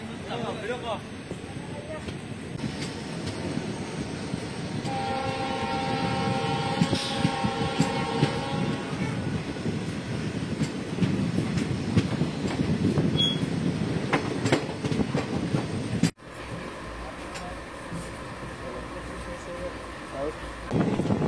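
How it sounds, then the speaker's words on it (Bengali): The Lachit Express pulls out of Silapathar railway station at night with a steady rumble and rolling wheel noise, a drawn-out squeal of wheels, and voices talking over it. "রাত 9:42 ট্রেন শিলাপাথর রেলওয়ে স্টেশন ছেড়ে তার পরবর্তী গন্তব্য ধেমাজির উদ্দেশ্যে রওনা হলো"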